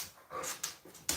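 An excited dog makes a few short whimpers and yips at close range in quick, uneven bursts, with breathy panting between them and no talk.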